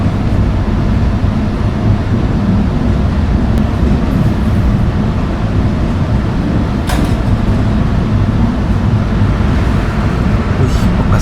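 Economy trains, mini and regular sets, idling at a station in Padang: a loud, continuous low diesel rumble and machinery drone, with a couple of brief clanks over the steady noise.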